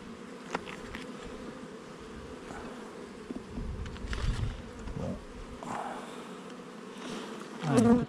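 Honeybees in a small nucleus hive buzzing steadily during a spring inspection in March, a soft, continuous close drone with occasional louder passes near the end.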